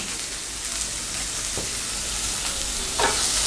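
Capsicum sautéing in a pan for restaurant-style chilli chicken gives a steady, moderately loud sizzle with occasional stirring scrapes, no talk.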